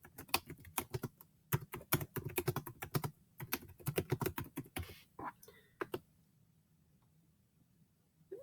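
Close, brisk typing on a computer keyboard while entering data into a spreadsheet. Rapid clicks come in bursts for about five seconds, then a few scattered keystrokes before the clip falls quiet.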